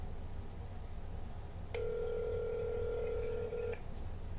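A telephone line gives a single steady ringback tone lasting about two seconds over faint background hiss, with no voices.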